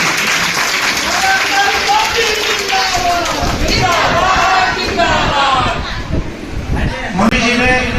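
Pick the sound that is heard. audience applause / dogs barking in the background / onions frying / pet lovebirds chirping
audience applause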